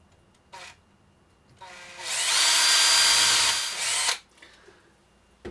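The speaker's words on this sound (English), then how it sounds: "I only drill about four mil into the shaft" Power drill boring about four millimetres into a metal gear shaft from a BMW throttle actuator held in a vise, a loud whining burst of around two seconds following a brief tap, with quiet pauses before and after.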